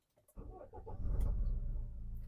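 A 2015 Renault Koleos 2.0 dCi diesel cranks briefly and fires up quickly, swelling into a deep, steady idle heard from nearby.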